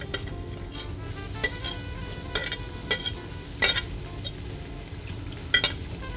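Partridge meat fries with onion in a pan, a soft, steady sizzle broken by several sharp stirring clinks and scrapes of a utensil against the pan.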